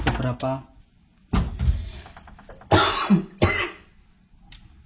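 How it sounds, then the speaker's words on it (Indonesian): Several harsh coughs and throat-clearing bursts come in short clusters, close to the listener, separated by brief pauses. "Maaf saya batuk-batuk ya."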